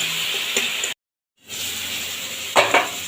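Sugar sautéing with ridge gourd for a Dhaka-style shukto: a close, steady sizzle that cuts out briefly, then returns with a couple of spoon-against-pan scrapes and clinks.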